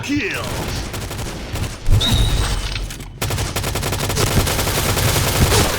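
Rapid sustained bursts of Scar-L gunfire in Point Blank at close range, loud and continuous, with a voice shouting over the shooting.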